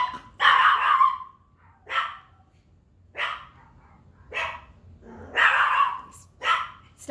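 A small dog barks in six sharp, separate yaps spaced about a second apart, close and loud over a quiet background, with no talking.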